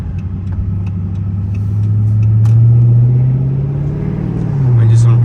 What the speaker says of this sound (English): a lot of people tell me my car is really loud